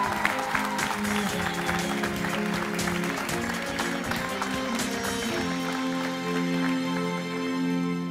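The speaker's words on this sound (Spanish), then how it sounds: "Aplausos" Studio audience applauding on an evening TV talk show as guests are introduced, with dense continuous clapping over a background of music and a brief spoken word.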